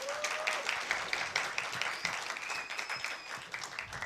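A graduation ceremony audience applauding, a dense, even wash of many hands clapping that holds steady throughout with no break.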